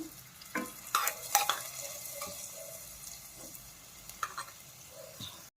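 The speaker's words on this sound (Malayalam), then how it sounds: "ലൈറ്റായിട്ട് ബ്രൗൺ കളർ ആവുന്നവരെ നമുക്കൊന്ന് വഴറ്റി കൊടുക്കാം." Coconut pieces for a Kerala jackfruit curry sautéing in a pan, a steady low sizzle with scattered scrapes and clacks of a stirring spoon, close by and without talk.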